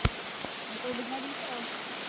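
Steady rain falls outdoors during a typhoon, a faint, even wash of drops on surfaces with a couple of brief knocks near the start.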